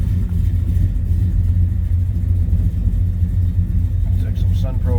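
A 1967 Chevrolet El Camino engine runs with a steady low rumble throughout, close and fairly loud, while a person talks over it.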